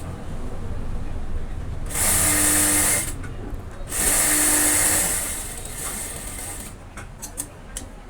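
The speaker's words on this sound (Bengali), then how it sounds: "কাপড়টি সুন্দরভাবে দুই মুখ সমান করে সাইড দিয়ে চাপ সেলাই দিচ্ছি" A sewing machine stitching a side seam on cloth for trousers runs in two loud bursts of whirring, rattling mechanism, then ticks and clicks faintly between and after.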